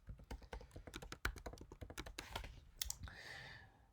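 Computer keyboard keys clatter in quick, uneven bursts as code is typed out, the clicks close and crisp, ending in a short steadier rustle.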